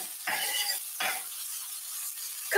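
Bell peppers and onions frying in a pan give off a bright, hissing sizzle that swells in two or three stirred bursts, heard up close with no voices.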